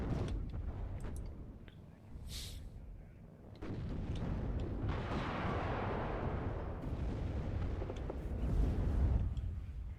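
Abbot self-propelled artillery firing smoke rounds in the strategy game Warno, heavy rumbling booms and rolling blasts layered over a continuous battlefield roar, loud and dense.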